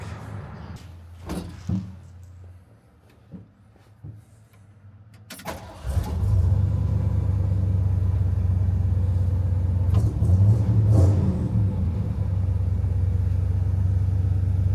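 A 1977 Ford F-150 Ranger XLT 4x4 pickup with a 4-speed gives a few clunks and clicks, then cranks and fires up around the middle, settling into a loud, steady rumbling run close by.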